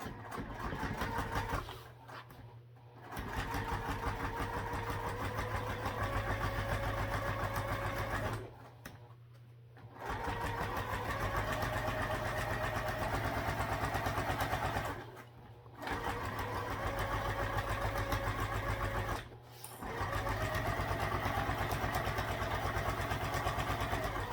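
A sewing machine stitches a half-inch seam with a small stitch length on fabric and vinyl, running in a steady mechanical whir in four long bursts separated by brief pauses.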